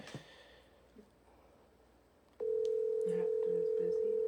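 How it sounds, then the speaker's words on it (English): A phone call connects with a few faint clicks, then a loud, steady electronic telephone tone starts abruptly and holds unbroken to the end. "So I'm calling their number right now."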